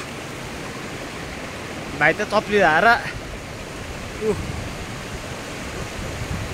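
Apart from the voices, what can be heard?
river stream flowing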